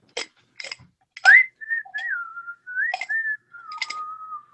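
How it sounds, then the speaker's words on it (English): Someone whistles a short, wandering tune close by during a high school stage play of The 39 Steps, a few sliding notes separated by brief pauses and soft breaths or clicks. "What's that tune you're whistling?"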